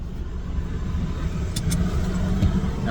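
A passing car drives by close and fairly loud, its steady engine and road rumble filling the whole stretch with no talk.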